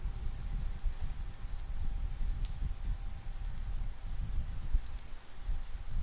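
Steady rain falls in the video game Naruto Storm 4 as a constant, even hiss of downpour with scattered droplet ticks, continuous and moderately loud, with no talk.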